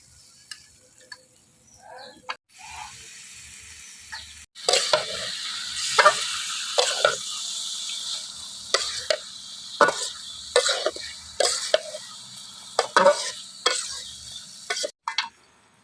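Chicken for a homemade biryani fries in a pan. After a quiet start, steady sizzling sets in, broken by repeated sharp spatula scrapes and clanks as the meat is stirred.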